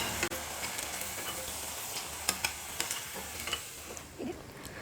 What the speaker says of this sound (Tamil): இதே போல் மீதி இருக்கிற எல்லா காலிஃப்ளவரையும் எண்ணெயில் போட்டு பொரிச்சு எடுத்துக்கலாம்